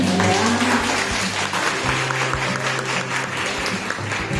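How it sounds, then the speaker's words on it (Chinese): Audience at a primary school guitar workshop applauding to welcome performers, a dense, sustained burst of clapping from a room of people, steady throughout. "不如我哋俾啲掌声欢迎佢哋啊"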